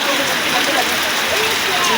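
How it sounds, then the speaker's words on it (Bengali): Heavy rain pouring in front of a row of shops, a dense steady hiss of downpour on surfaces close by, continuous and loud throughout. "দোকানগুলোর সামনে অনেক বৃষ্টি হইতেছে"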